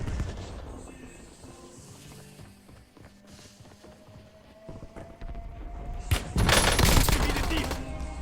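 Gunfire in Call of Duty Warzone, with scattered shots and rattling bursts under game sounds, building to a loud, dense stretch of rapid automatic fire near the end.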